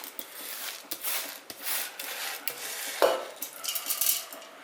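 Rice, urad dal and curry leaves tumble into a pan, followed by a metal spoon stirring and scraping with soft clinks, faint sizzling and irregular knocks close by.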